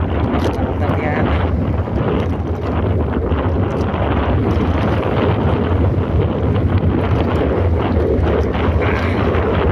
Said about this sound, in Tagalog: Malakas ang hangin migo.